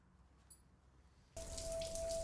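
Water from a shower in a film scene starts abruptly partway through and keeps running as a steady, fairly quiet rushing hiss after a near-silent opening.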